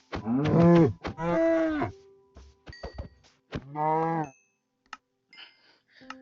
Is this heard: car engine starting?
no